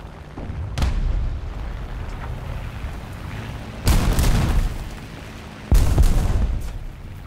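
Bomb explosions in the air-combat game War Thunder, two heavy booming blasts over a steady engine drone, loud and close.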